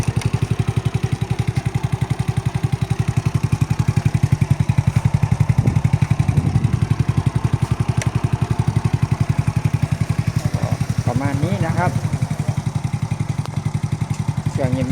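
A motorcycle engine idles steadily with a rapid, even thumping pulse, close and fairly loud, while a voice speaks faintly in the background.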